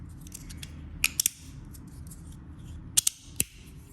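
Magnetic 3D printed clicky fidget toy with strong magnets snapping together, a few sharp close clicks in two quick clusters over quiet background.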